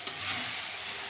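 Ginger and green chili paste hits a hot pan while mutton curry is cooking. It gives a sharp hiss that turns into a steady, bright sizzle, heard up close with no talking.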